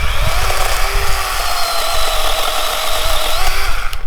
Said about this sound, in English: it cuts pretty good for a electric chainsaw